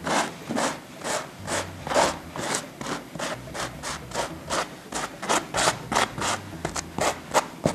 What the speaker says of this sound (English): I just take a sanding block and just lightly take it over the top of my texture just to enhance it just a little more.